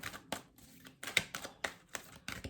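Tarot cards are shuffled close by in a reading, giving quick papery riffles and sharp taps in an uneven rhythm, clear and alone with no talking.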